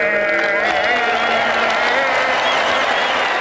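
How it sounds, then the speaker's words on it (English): Stadium crowd roaring and cheering right after a national anthem performance, a dense continuous wash of many voices and applause holding steady at full volume throughout. "And I hear that rush from the crowd."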